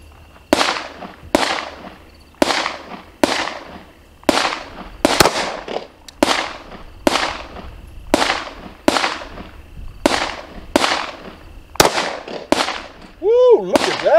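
A 10 mm SIG 220 pistol fired on a range bench rest, about fourteen sharp, loud reports at a steady pace, each followed by a short ringing decay.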